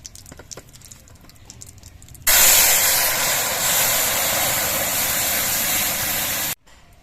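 Lentils tipped into a hot pan of tempering with radhuni for a bitter dal set off a sudden, loud, steady hiss of sizzling that lasts about four seconds before cutting out abruptly, preceded by quieter kitchen handling.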